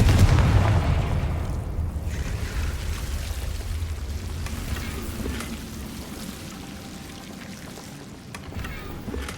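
Confringo blasting spell exploding in Hogwarts Legacy, a loud booming blast at the start that decays into a long, rushing, rain-like roar of debris and rumble, fading slowly over several seconds with no talk.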